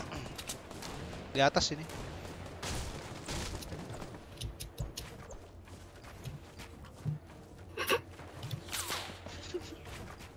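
Fortnite 50 v 50 battle with LMG fire: sharp gunshots crack in scattered bursts and short volleys, some near and loud, others distant, over a steady game bed while players talk.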